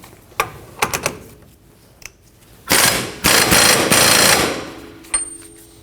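Ratchet snugging down the axle nut on a rear CV axle of a 2003-2006 Subaru Baja 2.5L H4, a few sharp metallic clicks followed by a loud, close, rapid ratcheting run lasting about two seconds.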